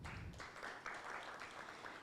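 A business audience at a launch event claps for a few seconds, a steady, fairly faint patter of many hands.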